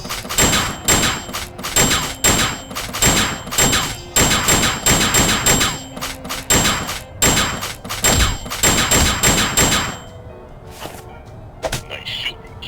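Rapid gunfire bursts in the Sam & Max Beyond Time & Space video game, loud repeated volleys in a choppy rhythm for about ten seconds, then trailing off into scattered faint thuds.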